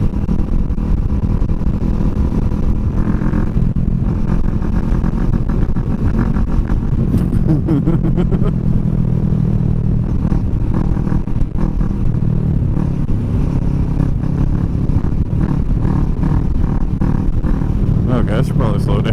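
Motorcycle fitted with a Delkevic SS70 slip-on exhaust riding at speed, a loud steady engine drone with wind rush and shifts in pitch as it accelerates, a rider's voice talking over it.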